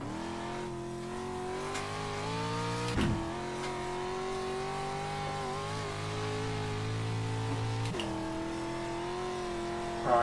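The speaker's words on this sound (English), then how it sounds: "Need the revs to be high. So the tyres are spinning," A race car engine in the iRacing simulator holds a steady high-revving drone with its tyres spinning, briefly dipping and climbing again as revs shift, heard alone without voices.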